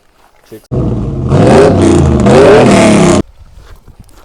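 Mercedes CLS with a 3.5-litre naturally aspirated petrol engine revving, a loud sustained roar of about two and a half seconds that swells twice before cutting off abruptly, heard close and alone.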